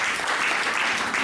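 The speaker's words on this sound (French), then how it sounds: "merci d'applaudir déjà maintenant" Brief burst of steady, dense audience clapping at a scout and Patro youth movement gathering, moderately loud and even.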